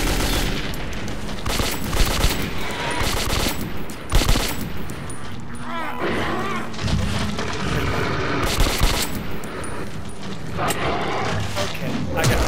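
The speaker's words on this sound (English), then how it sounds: "Yeah, I go ahead and shoot." Video game gunfire from Metro 2033, with bursts of shots and booms scattered through a busy, loud mix of game sound and a player talking over it.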